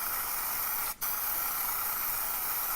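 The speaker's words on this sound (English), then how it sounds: "you will try to take off the lid and spray some spray paint into the cup with glue" Spray paint hissing steadily from a can into a cup of glue, a loud close continuous hiss with one brief break near the start.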